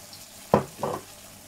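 An egg going into a little oil in a non-stick pan for Thai prawn fried rice, giving two short, close sizzling bursts about a third of a second apart before it settles to quiet.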